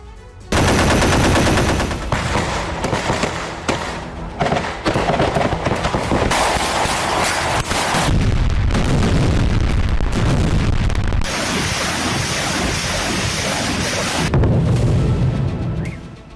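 Ukraine war combat with dense, loud bursts of gunfire and booming explosions, rapid volleys overlapping in a continuous barrage.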